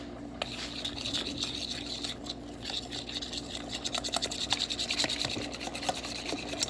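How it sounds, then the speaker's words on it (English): A whisk scraping and rubbing steadily around a bowl while a sauce for chicken tetrazzini is mixed until smooth, a continuous close scratchy swishing with quick rhythmic strokes growing busier toward the end. "And we're going to whisk that together."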